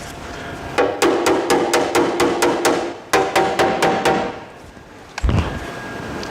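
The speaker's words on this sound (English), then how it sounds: "I'm going to hit it with a hammer." A hammer strikes a car body panel during a vehicle restoration, a fast run of about twenty sharp metallic blows in two bursts, close and loud, then a heavier thud.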